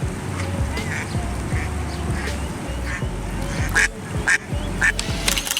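A duck being attacked by a turtle gives loud, repeated quacks and honks in a fast, irregular series near the microphone, over a rough background.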